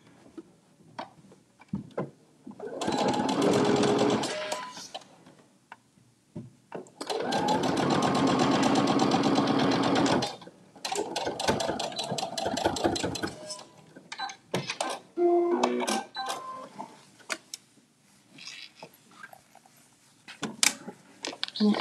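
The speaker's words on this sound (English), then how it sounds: "I'm just going to stitch it closed" Sewing machine stitching a fabric bag pocket closed with a quarter-inch seam, running in several close bursts of rapid mechanical whirring, with short starts and stops for back stitching in between.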